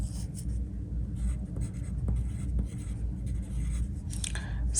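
Pen writing on paper while noting measurements for a technical drawing of hex-headed screws, faint close scratching strokes with small taps, over a low background hum.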